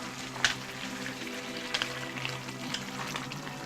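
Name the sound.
vegetable dish boiling in pot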